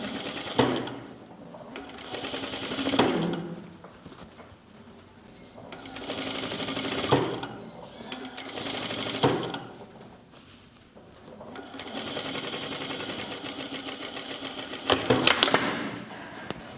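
A sewing machine stitches bias binding around the curved armhole of a shirt, running in several loud bursts of rapid needle clatter separated by short pauses.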